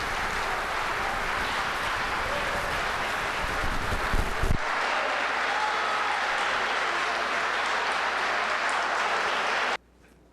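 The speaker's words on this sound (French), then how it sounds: "Puis je vous demanderai d'applaudir." Audience at a televised community news event applauding warmly for a long-serving financial secretary, a dense sustained clapping close and loud that stops abruptly near the end.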